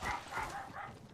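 Dogs bark and yip in the room during an Apex Legends scrim session, a few quick overlapping yaps repeating across the moment at moderate level, mixed with faint voice and game sound.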